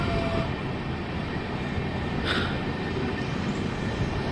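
Interior of the Naini Doon Jan Shatabdi Express, an LHB passenger train, running past a platform: a loud steady rumble and rattle of the coach on the rails, with a brief higher whine midway.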